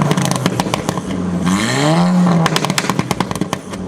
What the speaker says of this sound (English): Let's start it up and give it a little rev.